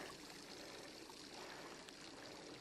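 A mountain stream flows beside a grassy high-altitude campsite, producing a steady, faint, even rush of water that continues unbroken with no voices.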